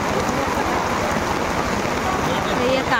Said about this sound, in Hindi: प्रबल वर्षा होउछि